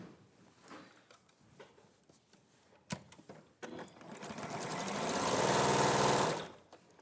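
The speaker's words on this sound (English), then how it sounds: "I'm going to sew with a 1/4 inch seam along that line there" A sewing machine stitches a quarter-inch seam along fabric squares, starting with short stop-start bursts before running in one long, steady, loud whirring stretch that cuts off near the end.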